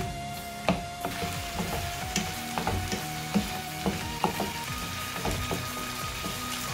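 Tomatoes sauté in a pan for a shallot and garlic kara kuzhambu, giving a low steady sizzle broken by a few distinct knocks and scrapes of a spoon stirring close by.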